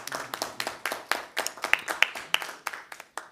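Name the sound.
audience applause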